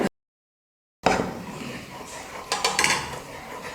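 Hot ghee is ladled into a Mysore pak mixture in a pan, bringing metallic clinks of ladle against pan and a burst of sizzling stirring after a second of silence, close and without speech.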